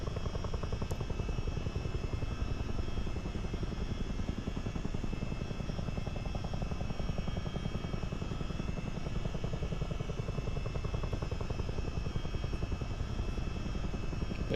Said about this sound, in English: it's a Chinook. The sound is very, very unique in real life, so I'm glad that they've replicated it really well.